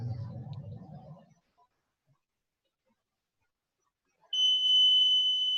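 A dual range AC voltage detector gives a steady, loud high-pitched electronic tone that starts suddenly after a stretch of near silence and holds continuously, following brief low voice sounds at the start.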